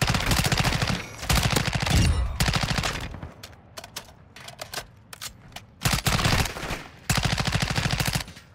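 Rapid automatic gunfire from AI enemies in Modern Warfare 2 DMZ, with dense bursts of shots alternating with scattered single cracks and short gaps, loud and close.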